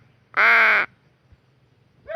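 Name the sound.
crow cawing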